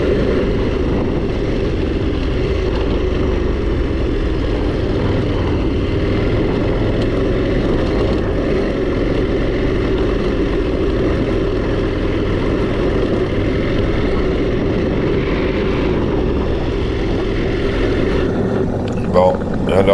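KTM 1290 motorcycle engine on a dirt track, a continuous loud low rumble with steady wind buffeting throughout, close and unbroken.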